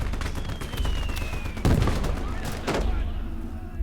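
Distant gunfire from a battle in the WWII strategy game Gates of Hell, with an MG42 machine gun in action, gives a steady crackle of shots and a couple of heavier thuds. There is no talking.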